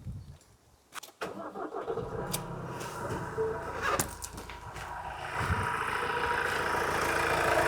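The diesel engine of a Ford Transit van with a suspect DPF pressure sensor starts up and settles into a steady, rising idle, close by with some background clatter.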